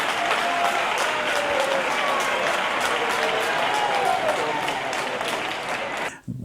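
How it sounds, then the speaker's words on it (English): A crowd cheering and applauding in a steady, unbroken roar that holds at an even level before cutting off abruptly at the end. "and people cheering"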